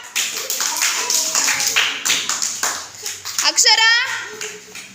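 Children in a classroom clap briefly in short bursts after praise, mixed in with an adult voice and children's speech.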